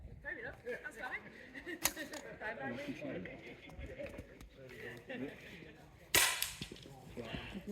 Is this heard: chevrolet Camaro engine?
no